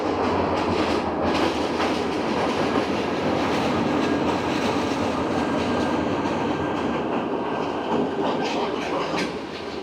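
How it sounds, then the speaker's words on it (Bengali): A metre-gauge EMU train rolls into a Malaysian station with a loud, steady rumble and rhythmic clatter of wheels on rail, close by throughout, easing slightly at the end; no talking. "আর দেখুন একটা লোকোমোটিভ আসছে।"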